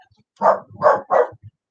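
A dog barks three times in quick succession, loud and close, with short pauses between barks.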